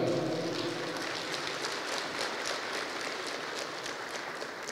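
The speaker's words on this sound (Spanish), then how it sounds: "Fuerte voto de aplausos." Applause at a keynote lecture by former Bolivian president Evo Morales, a steady wash of crowd clapping that holds at even loudness throughout, with no voices over it.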